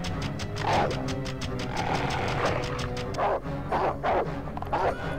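In the video game Conker's Bad Fur Day, a dog gives a run of loud, rhythmic barks, about eight in quick succession with short pauses, over a background music bed.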